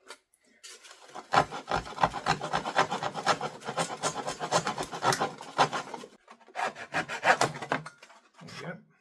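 A saw cuts through a false bulkhead in a Piper Apache PA-23 aircraft with rapid, close rasping strokes, a long continuous run broken by brief pauses and a short final burst.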